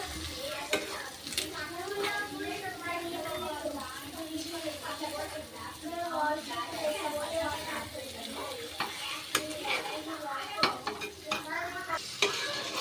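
Egg frying for egg rice is stirred in a pan, with steady sizzling and repeated spatula scrapes and taps throughout, under intermittent talking.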